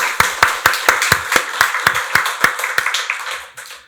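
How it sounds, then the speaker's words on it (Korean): A church congregation at a Sunday service claps in unison, giving steady, evenly spaced rhythmic claps that are loud and close before thinning and fading out at the end, with no voices. "박수로 하나님께 영광 돌리겠습니다"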